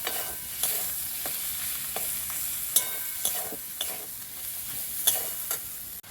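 Soybean chunks and spices stir-fried with salt in oil, a continuous sizzle punctuated by rhythmic spatula scrapes against the pan at roughly half-second intervals.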